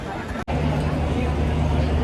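Dense crowd chatter fills a packed, small railway platform at Omkareshwar, a steady babble of many voices close around with a brief dropout near the start.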